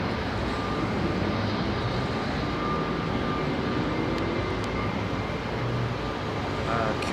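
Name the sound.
Qatar Cargo Boeing 777-200 freighter taxiing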